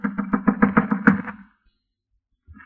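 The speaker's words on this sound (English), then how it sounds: "knocked on the door" A door is knocked on in a radio drama, a quick run of about eight firm raps, close and clear, then silence.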